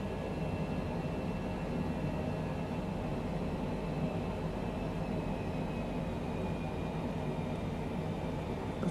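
Steady jet engine drone from an airliner cockpit in Microsoft Flight Simulator 2020 flying into Tropical Storm Elsa, a continuous broadband roar with faint high whine tones, constant and unbroken throughout.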